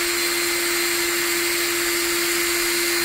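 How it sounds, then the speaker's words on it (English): A high-speed rotary power tool drills out a guitar tuning peg hole, giving a loud, steady, high-pitched whine with a constant tone that runs unbroken throughout, close up and without talk. "And I'm just going to start drilling it out."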